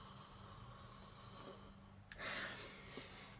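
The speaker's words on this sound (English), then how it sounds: "let's give it a sniff." Someone sniffs a glass of dry stout beer, a short soft inhale through the nose near the microphone in an otherwise quiet room.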